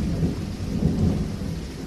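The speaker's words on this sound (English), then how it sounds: "thunder coming our way apparently" Thunder rolls as a loud, continuous low rumble mixed with a steady hiss of rain. It carries through without any speech.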